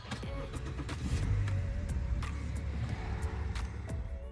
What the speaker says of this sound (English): just ignore me struggling to start the car while I'm holding my phone here